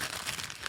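Wrapping paper crinkles and rustles in a short, close burst as a first edition hardback book is unwrapped.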